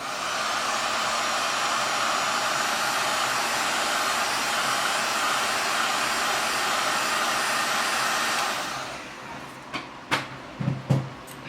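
A steady, loud broadband whoosh of a heat gun warming a Samsung Galaxy S7 phone for removal runs for about eight seconds, then stops, followed by a few faint clicks and taps.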